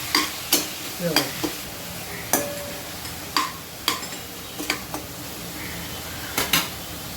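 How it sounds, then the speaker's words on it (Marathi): Onions with salt fry in a pan over a gas flame while being stirred; irregular sharp scraping and clicking strokes land over a soft, steady sizzle, close up. "आणि चांगलं ढवळायचं। जरा गॅस जरा कमी जास्त करून भाजून घ्यायचो कांदे।"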